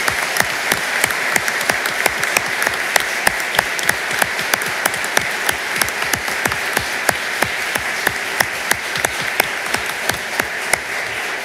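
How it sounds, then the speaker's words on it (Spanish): A courtroom audience applauds at a swearing-in ceremony for new lawyers before the Supreme Court, sustained and even clapping with sharp individual claps standing out, steady throughout with no speech. "Aplaudamos este logro."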